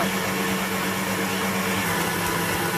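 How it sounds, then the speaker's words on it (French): A machine kneads Moroccan bread dough with a loud, constant motor whir and churning rumble, close and unbroken throughout, with no voices. "Je laisse pétrir"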